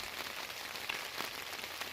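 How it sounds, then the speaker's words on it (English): Steady rain falls on an Oregon evening, a dense even hiss with soft scattered drop impacts, fairly quiet and continuous with no talking. "it's started raining now, and it's supposed to rain all the way through"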